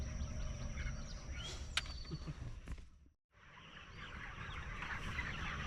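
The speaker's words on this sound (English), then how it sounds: "now my daddy is feeding the chickens and giving them water right now" Chickens on a Kentucky family farm being fed and watered, with soft clucking and scattered bird calls over steady outdoor noise, briefly dropping to near silence before the ambience resumes.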